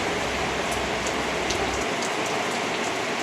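Steady monsoon rain pours down during a motorbike ride in Assam, a dense continuous hiss of drops drumming on surfaces, close and even throughout with no talk.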